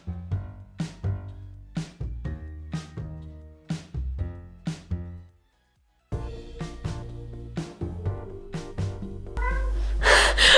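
A pet cat meows over and over in short, separate calls with brief pauses, loud and close; a quiet gap falls in the middle, then the meows resume and end in a harsher, noisier burst.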